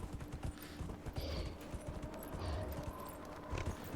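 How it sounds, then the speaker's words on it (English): A summoned horse mount in the video game Dragon Age: Inquisition, its hooves clip-clopping in a quick, steady rhythm at a soft, quiet level with no speech. "should we summon a new mount?"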